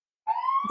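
A police siren wails on a New York street. A single sustained tone sounds suddenly and clearly for under half a second, with a faint rumble at the end.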